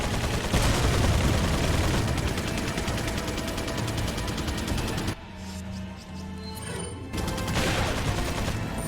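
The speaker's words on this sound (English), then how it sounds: "let's just throw a little grenade down there with them" Grenade blast and gunfire in Resident Evil 4 HD, a dense loud barrage of shots and bursts that drops into a muffled ringing lull before the din resumes.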